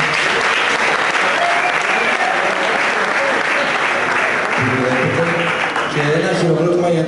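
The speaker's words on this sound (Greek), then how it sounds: "Ένα χειροκρότημα για τον Αλέκο" Applause from an audience at a live rock concert in a Thessaloniki venue, a dense, steady wash of clapping and crowd noise lasting throughout, with a voice speaking over the end.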